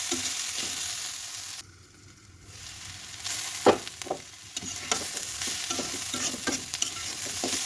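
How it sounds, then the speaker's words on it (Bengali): Potatoes sizzle steadily in a hot pan while a utensil scrapes and stirs them in repeated short strokes, close by and without talk. "এখন আর ঢাকলে হবে না, এখন এরকম করে ভাজতে হবে।"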